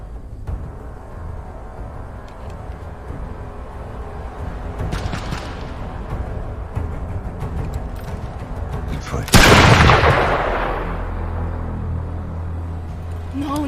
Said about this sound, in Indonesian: si Abigail menembak si zombie.